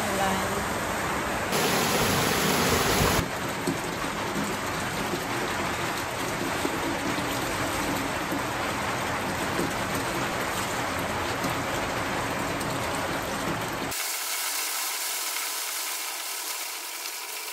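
A sudden heavy downpour hisses as a dense, continuous roar of rain for most of the stretch, then cuts to a quieter, thinner background near the end.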